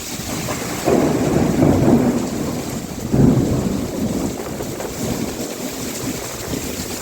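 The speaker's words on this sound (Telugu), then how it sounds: "చూడండి ఎంత పెద్ద గాలి వాన" Heavy rain and wind storm in Narsipatnam, a loud, continuous rushing roar with deep rumbling swells and gusty buffeting surging around the first and third seconds, no voices.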